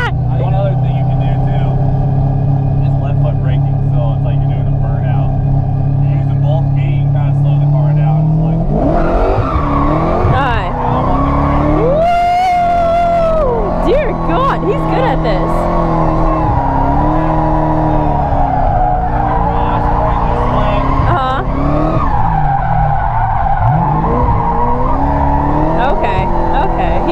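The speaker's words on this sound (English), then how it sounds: "I thought we were going for like a little slow drift at first" A car drifting, its engine droning steadily then revving hard and wavering in pitch while tires squeal and skid, loud and close, with people talking over it.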